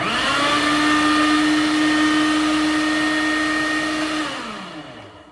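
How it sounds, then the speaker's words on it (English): A food processor mixes dry pie crust ingredients with a loud, steady motor whir that holds a constant pitch, then winds down as it switches off near the end. "let the food processor mix up your dry"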